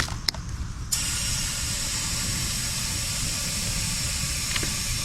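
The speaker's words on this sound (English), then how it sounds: "Let's get a little bit of air in these tires." Air hisses steadily into old, dry-rotted tires on a long-abandoned Kubota tractor, a brief clank then a continuous loud close rush of pumped air lasting several seconds with no talking.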